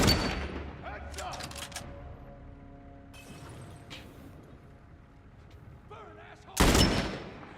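Gunshots in The Last of Us Part 1: a few scattered reports early, then one loud close blast near the end, set against a quieter game ambience.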